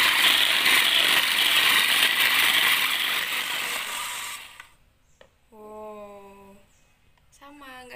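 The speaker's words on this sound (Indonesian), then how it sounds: "lalu kita mixer dalgonanya" An electric mixer whips a dalgona coffee mixture of sugar and cold water, a loud steady broadband whir running for about four and a half seconds before cutting off, followed by a short quiet stretch with a few faint tonal sounds.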